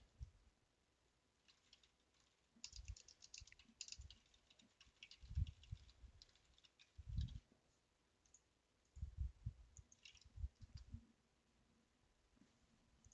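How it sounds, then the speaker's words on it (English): Fingers tap quietly on a computer keyboard in irregular bursts of clicks with short pauses between them, against a low room hum. "let me type in here"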